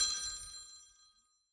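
A telephone bell rings once on a podcast, a bright metallic peal that starts loud and decays over about a second and a half into silence.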